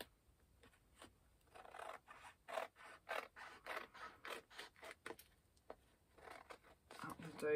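Scissors snip repeatedly through paper while trimming it to make a journal pocket, a close, steady run of crisp cuts with brief pauses between them.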